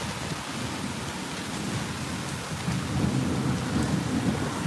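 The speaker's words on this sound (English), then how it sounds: "Lightning getting closer, thunder getting louder." Thunder rumbles low beneath heavy monsoon rain in an Arizona storm, a broad steady roar of rain that swells louder toward the end as the rolling thunder builds.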